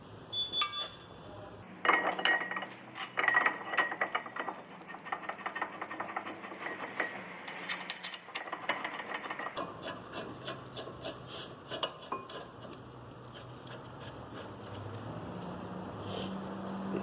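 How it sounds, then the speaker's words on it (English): Quick scratchy brushing scrubs a metal brake caliper bracket on a 2010 Mazda Tribute, rapid close strokes with light metallic clinks, turning into steadier, softer scrubbing in the later part. "Clean up the bracket a bit with a little brush."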